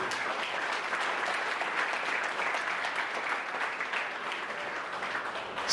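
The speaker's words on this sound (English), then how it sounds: "So please give yourselves a round of applause for being here." Audience applause at a memorial event fills the room, a steady wash of many hands clapping at moderate loudness without a break and with no voices over it.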